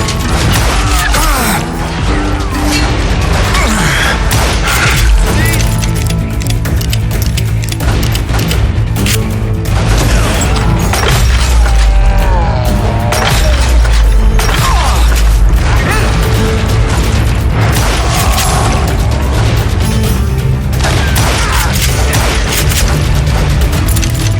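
Gunfight in the Western video game Call of Juarez Gunslinger, with booms, crashes and scattered shots piling up loudly and continuously over dense game music and effects, while a voice shouts briefly.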